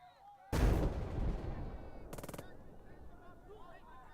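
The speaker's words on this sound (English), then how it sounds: "I need to get my MGs in action here." Gunfire in the wartime strategy game Burden of Command, with a sudden heavy blast followed by a short rapid machine-gun burst, then quieter battlefield rumble fading out.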